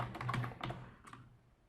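Brief typing on a computer keyboard while writing CSS code, a short cluster of close, soft key clicks that taper off after about a second.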